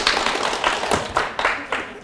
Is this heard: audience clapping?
yes